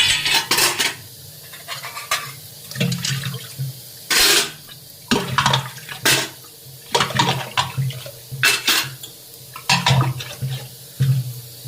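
Dishes, pots and cutlery being washed at a home kitchen sink, with repeated clinks and clatters of metal utensils against each other and running tap water, close and fairly loud, no talking.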